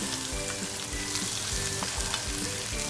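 Chilies, capsicum and onion sauté in a pan, giving a dense, continuous close-up sizzle with soft rhythmic stirring scrapes underneath; no talking.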